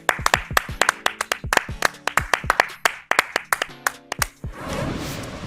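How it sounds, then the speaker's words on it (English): Several people clapping in a podcast studio: a burst of sharp, uneven hand claps about four seconds long, loud and close, trailing off into a short wash of noise, with no talking over it. "Clap it up"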